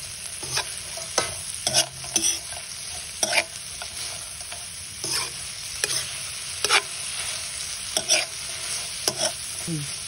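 Fried dilis anchovies stirred into frying tomatoes in a pan, with a steady sizzle under repeated scraping strokes of the spatula that come every second or so, close and fairly loud, with no talking.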